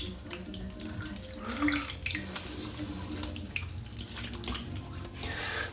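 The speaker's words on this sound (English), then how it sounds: "I'm adding quite a lot of water in my face there." Water runs from a tap into a sink during a wet shave with a safety razor, a steady close splashing with small irregular splashes and trickles throughout, quiet and without talk.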